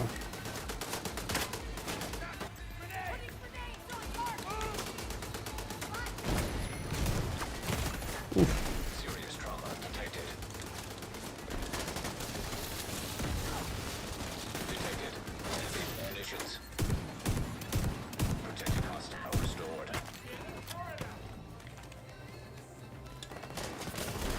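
Rapid gunfire rattles through a firefight in The Division 2, with repeated bursts and single shots at varying distances, loud and continuous, while players talk intermittently over it.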